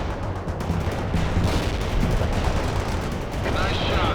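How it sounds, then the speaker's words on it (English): An artillery barrage in the World in Conflict video game: a loud, continuous roar of overlapping explosions and rumbling impacts that swells and rolls on for several seconds. "Artillery barrage turned the target area into dust."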